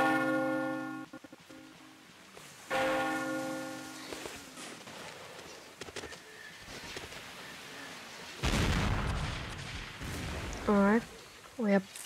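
Cannon fire pounding fortifications in Mount&Blade Warband Napoleonic Wars at a naval base, with a few distant booms among ringing bell-like tones and game noise, and a voice briefly heard near the end.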